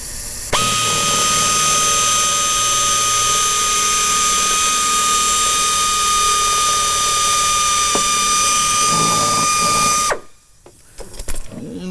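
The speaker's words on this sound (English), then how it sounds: "1/8 inch drill bit, we'll go through here and we'll hit all 4 of those" A 1/8 inch drill bit bores through a plastic bumper part, a loud, steady, high-pitched whine held for about ten seconds before cutting off abruptly, followed by some faint handling clatter.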